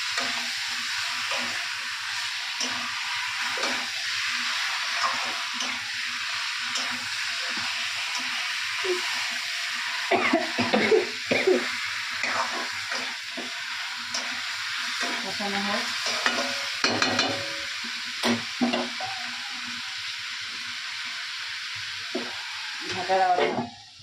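Chicken and potato pieces cook in a pan: a loud, continuous sizzle and hiss of frying, interrupted by irregular scraping and clattering as the food is stirred, close up, with no voices.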